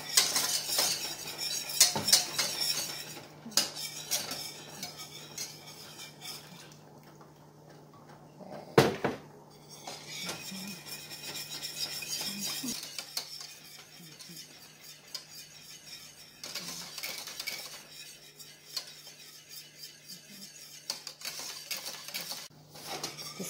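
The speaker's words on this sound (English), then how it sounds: "I'm going to mix that in slowly." Whisk or spoon scraping and clinking against a pot while vegan cheese sauce is mixed, intermittent metallic taps and rasping strokes at moderate volume, with quiet gaps and no talk.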